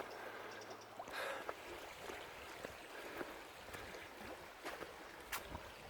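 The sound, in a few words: slow river bubbling along in Cornwall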